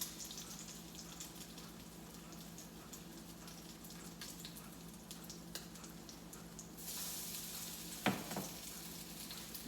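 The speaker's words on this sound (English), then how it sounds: "Just a minute and I'll show you how nicely these are frying up." Soft, steady sizzling of salmon croquettes frying in oil, crackling faintly throughout, with a brief clatter and a swell of louder sizzle near the end.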